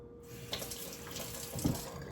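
A kitchen tap runs steadily onto wet hands while croissant dough is being worked, a close, continuous splashing stream with a slight swell partway through.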